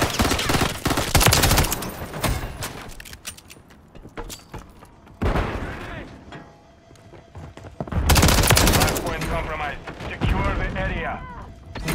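Rapid gunfire and explosions in a Call of Duty MW3 multiplayer match, dense automatic bursts and booms in waves with brief lulls, loud and near, with game voices calling out beneath.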